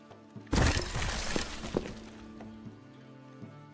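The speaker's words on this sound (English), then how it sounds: "and that is Corpse Explosion" A Corpse Explosion spell in a cleaning video game bursts suddenly into a loud shattering crack, followed by scattered thuds and debris clatter that fade over a few seconds beneath a steady game music bed.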